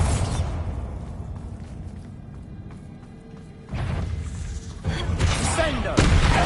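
Booming Bombarda blast spells from the Hogwarts Legacy game go off in heavy thuds and crashes during a spider fight, several impacts in a row growing louder toward the end, while a voice shouts spell names over them.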